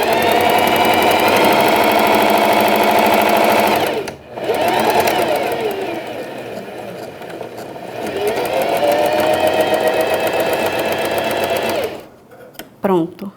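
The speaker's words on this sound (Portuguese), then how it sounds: "Vou firmar e costurar." A sewing machine stitches a pet bandana in long, loud, rapid runs of close mechanical whirring, pausing briefly twice, with a voice speaking over it and clicks at the end.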